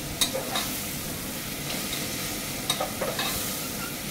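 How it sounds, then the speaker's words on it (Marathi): Tomatoes softened with salt fry and sizzle in a pan while being stirred, with a steady hiss and occasional sharp scrapes and clinks of the spoon. "असं सतत त्याला हलवत राहायचं आहे"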